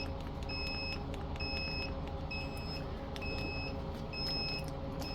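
Quail egg incubator beeping after a sterilize cycle: a regular pattern of short paired electronic beeps, about five repeats, over a steady low fan hum, close and moderately loud with no talking.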